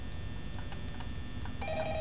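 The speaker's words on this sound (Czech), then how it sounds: "Telefon, telefon, telefon, čím se bere telefon? Seber telefon!" A telephone rings in the Five Nights at Freddy's horror video game, a steady electronic ring tone over a constant game hum, alongside rapid clicking from keys or a mouse, with a new tone entering near the end.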